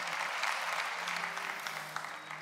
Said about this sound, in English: mighty hand clap of praise.